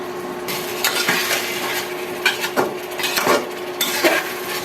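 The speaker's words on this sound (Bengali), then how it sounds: "এবার কলাটা নেড়ে চেড়ে ঢেকে দিচ্ছি" Green banana and hilsa fish curry stirred in a pan, with repeated clinking and scraping strokes of a utensil against the metal over a continuous sizzle, close and fairly loud.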